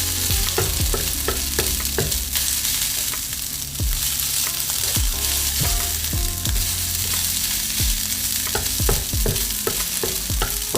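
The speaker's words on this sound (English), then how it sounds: "So this rice is getting fried." Rice frying for homemade pork fried rice, a steady loud sizzle with repeated scraping and stirring strokes of a utensil against the pan throughout, close up and continuous.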